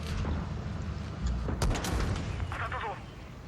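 Tank cannon fire in the mobile game World of Tanks Blitz, heard as a few heavy booming shots with a rumbling low end and a mechanical rattle behind them, set against ongoing game noise.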